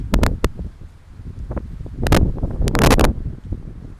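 Gusty wind buffets an outdoor microphone at a waterside plein air pastel painting session, with rough low rumbling and sharp, loud bursts of rustle and crackle coming in uneven surges over about four seconds.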